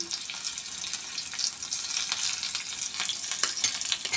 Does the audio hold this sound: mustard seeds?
yes